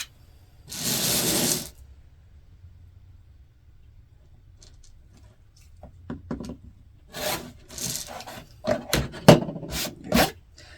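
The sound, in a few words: trimming fabric half square triangles, two sides at once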